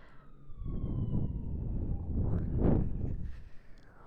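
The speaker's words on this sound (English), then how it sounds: "Alright, sirens, can you guys chill out a little bit today?" Sirens wail faintly in the distance, their pitch sweeping slowly, beneath low rumbling traffic noise nearby.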